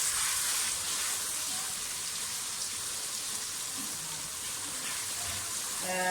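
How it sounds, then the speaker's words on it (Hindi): Onion, garlic-ginger paste and green chilli paste fry in hot oil for matar aloo pulao, giving a dense, continuous close sizzle that stays loud and even throughout, with no speech. "लहसुन अदरक का पेस्ट डाल दें। इसमें अच्छी तरह से भूनिए कि इनका कच्चापन दूर हो जाए।"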